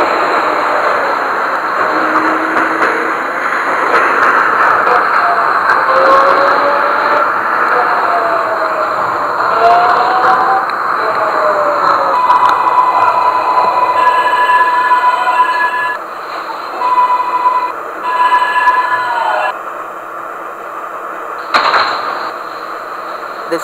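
A Queensbound 9 local subway train runs in the OpenBVE train simulator, giving a steady rumbling ride with rising and falling motor whine and a sustained electronic tone partway through, then a brief clatter near the end.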